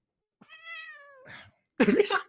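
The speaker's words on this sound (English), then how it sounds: "Random cat just appears." A cat lets out one long, drawn-out meow, close and clear, followed by a short pause and then people talking loudly.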